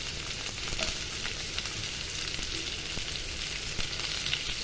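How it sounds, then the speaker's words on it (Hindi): Onions fry in a pan for a paneer garlic gravy, giving a steady, close, even sizzle and crackle that carries on without a break and without any speech. "थोड़ा सा प्याज को भूनने देंगे।"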